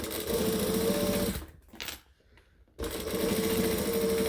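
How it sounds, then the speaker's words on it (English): A sewing machine stitches a handbag seam in steady, close whirring runs, pausing briefly to near silence before resuming. "I'm going to sew up those little bits I just undid"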